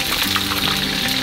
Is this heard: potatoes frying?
yes